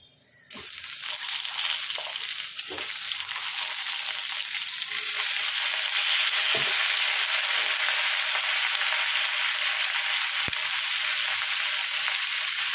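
Papaya pieces tossed into a pan of fried potatoes set off a loud, steady frying sizzle, close by, with occasional faint stirring knocks and no talking.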